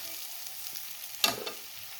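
Vegetables tossed with coriander powder in a pan for kothu chapati give a faint, steady sizzle, broken by one brief, sharper scrape of stirring midway.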